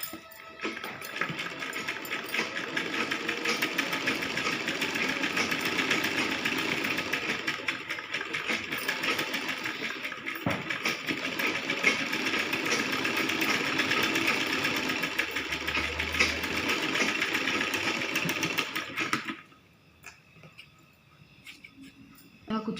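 A sewing machine stitches the sleeves of a small child's saree, running steadily and close for about nineteen seconds before stopping abruptly into near quiet.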